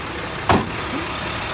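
A AAA tow truck's engine idles nearby in a steady low rumble, broken by one brief loud thump or knock partway through, with no voices.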